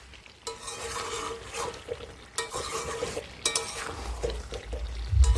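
Chicken cooks in oil in a pan for a home-style meat curry, giving a steady sizzle and frying hiss throughout with intermittent stirring scrapes. Brief louder bursts rise near the end, and no one speaks.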